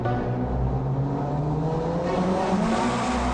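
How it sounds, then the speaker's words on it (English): A Nissan S14 with an SR20 engine screams at full throttle, a loud continuous high-revving roar with rising pitch, close and unbroken. "nothing beats the sound of the angry SR20 on full noise"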